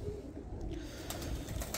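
A breeder's pigeon in Bradford coos softly in a low, soft burble, faint and close against quiet background noise, lasting under two seconds with no speech.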